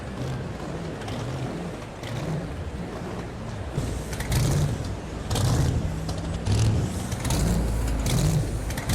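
A monster truck engine revs hard at the Madhouse arena, a loud, continuous roar that rises and falls in surging pulses amid broad crowd and arena noise.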